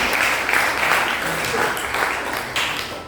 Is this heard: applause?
yes